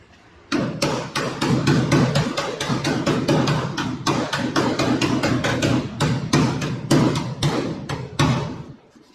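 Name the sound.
tapping on a car body panel flange to tighten it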